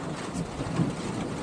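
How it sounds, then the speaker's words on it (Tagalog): Heavy rain pouring down during a thunderstorm in Malaysia, a dense steady roar with low rumbling underneath, loud and continuous with no talk. "Bumuhos na ang ulan. Grabe ang ulan."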